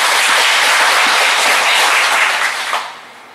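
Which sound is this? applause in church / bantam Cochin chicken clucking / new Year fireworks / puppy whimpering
applause in church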